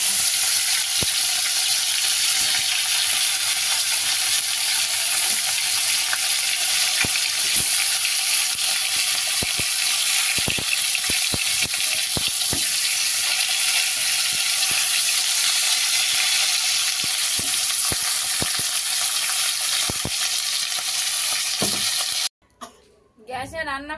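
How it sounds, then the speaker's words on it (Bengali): Fish frying in hot oil in a wok on a gas stove, a loud, continuous hiss and crackle with scattered pops and clicks that runs steadily before cutting off abruptly near the end. "তেলটাও গরম হয়ে গেছে, দিয়ে দিচ্ছি মাছ"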